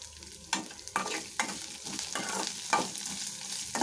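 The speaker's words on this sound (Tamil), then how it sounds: "வெங்காயத்தை நல்லா வதக்கணும்." Onions sautéing in a pan, a continuous sizzle broken by a series of distinct scraping stirs every half second or so, close and clear with no voices.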